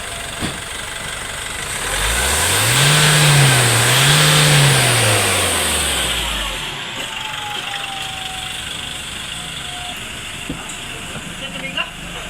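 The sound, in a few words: pickup truck diesel engine revving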